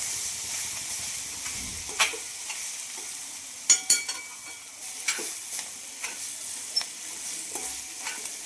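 Paneer bhurji is sautéed and stirred in a pan: a steady soft sizzle runs throughout, broken by sharp, irregular spatula clacks and scrapes, with a cluster of louder knocks midway.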